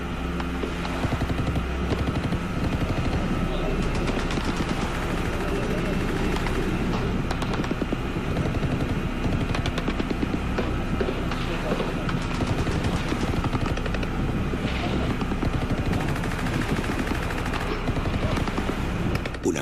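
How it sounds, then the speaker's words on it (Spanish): Pirates fire guns wildly at small unarmed soldiers' boats off Somalia, producing dense, continuous gunfire with rapid crackling bursts over a constant engine-like rumble, loud throughout. "Los piratas abrieron fuego salvajemente, decididos a no dejar que los soldados se acercasen."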